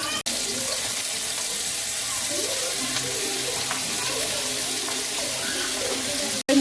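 Sliced onion drops into hot oil and sizzles with a loud, steady hiss throughout, cut off abruptly near the start and end.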